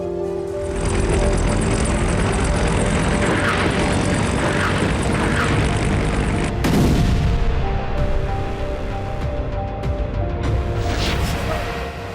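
Russian cruise missile strikes on Lviv produce a dense, continuous roar of blasts and rumbling, loud and sustained, with a heavy low-end wash and a sharp shift in texture partway through.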